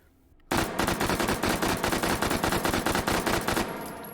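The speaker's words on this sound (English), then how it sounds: "Let's try our 2-round burst." H&K MP5 submachine gun in the VR game H3VR, fired in two-round bursts: a loud, close, rapid string of sharp gunshots that runs without pause for about three seconds after a quiet start, then cuts off abruptly.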